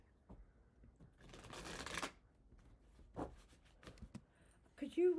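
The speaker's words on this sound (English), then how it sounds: "One more shuffle." A deck of tarot cards is shuffled close by and quietly, with one riffling burst followed by a few shorter flicks and taps.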